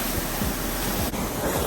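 Strong wind buffets the microphone outdoors at a snowy winter campground in Indiana, a steady loud roar with gusty rumble throughout and no voices.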